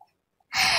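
A single sharp sneeze bursts out after near silence. It is close and loud, and it is cut off as it ends.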